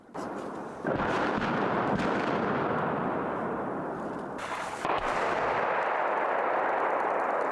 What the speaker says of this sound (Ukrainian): У наш бік полетіли важкі снаряди. Ліс потонув у відлунні вибухів.